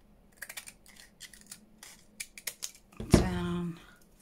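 Scissors cutting an acetate sheet give several light, sparse snips. They end in one louder, longer crisp slicing stroke that rings briefly, while a voice murmurs faintly underneath.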